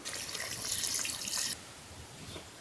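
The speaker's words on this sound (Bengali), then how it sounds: "এখন সেদ্ধ হওয়ার জন্য পানি দিয়ে দেব" Water pours in a steady splashing stream into a pot of browned chicken cooking with gourd, then cuts off abruptly halfway, leaving a quiet simmering hush.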